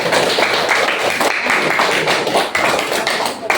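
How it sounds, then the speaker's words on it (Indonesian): Children clapping together in a classroom during a lesson, a fast, uneven patter of many small hands, fairly loud and close, continuing for a few seconds. "Kalau begitu kita tepuk tangan dulu untuk anak-anak semuanya."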